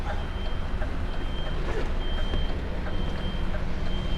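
An HGV truck reverses along a one-way city street in Manchester, its steady rhythmic warning beeps sounding over a loud, continuous engine rumble and road noise.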